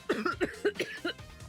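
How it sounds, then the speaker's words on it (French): A woman coughs hard in a quick series of forceful, throaty bursts, several close together and then fading to weaker hacks, heard alone in an office setting. "Yuri s'est soudainement levé et s'est mise à tousser fort"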